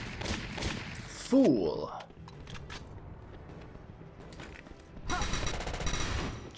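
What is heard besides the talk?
gunfire in the video game Valkyria Chronicles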